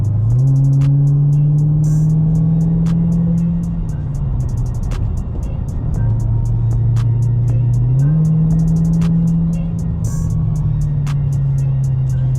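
A 2020 Dodge Charger SRT Widebody accelerating hard on a twisting road, a loud, close engine roar rising through the revs, dropping briefly at gear shifts and climbing again, with wind rush over the drone.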